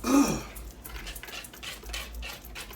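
A wire whisk beats ingredients in a bowl while preparing vegetable stir fry rice, a quick run of light, rapid metallic ticks and scrapes close by, with a brief throaty noise at the start.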